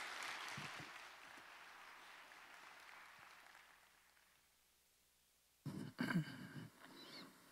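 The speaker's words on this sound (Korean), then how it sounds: "우리 힘찬 박수로 한번 모시겠습니다" Congregation applause welcoming pastors at a Korean church's Thanksgiving worship service, a fairly soft spread of clapping that fades out over about four seconds, followed by a brief close sound burst near the end.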